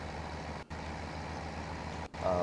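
Tractor engine in the Farming Simulator 17 video game, a steady low droning hum with strong harmonic tones, briefly cutting out twice before resuming.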